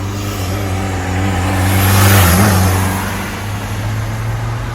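A 1991-style VW Golf 3 with a 1.9 TD diesel engine, soft-tuned, revs up under acceleration, a steady low engine drone swelling to a louder peak midway before easing back, close and continuous with no talk.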